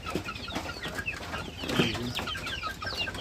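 Several native chickens on a farm cluck close by in short, overlapping bursts, with soft background noise and no talking.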